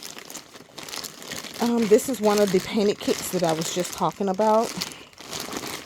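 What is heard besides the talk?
crinkling plastic packaging of a doll kit being opened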